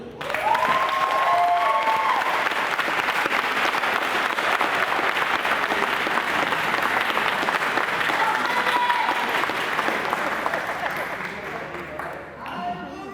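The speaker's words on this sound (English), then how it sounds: "give a round of applause to my team" Sustained applause from an audience at a summer academy closing ceremony fills the room, dense and steady for most of the stretch before tapering near the end, with faint voices mixed in.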